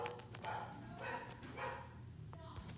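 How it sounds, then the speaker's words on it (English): Dogs barking indoors in the background, several sharp barks and a yip scattered through the moment, heard faintly under someone talking. "Sorry if you hear barking, that's the dogs."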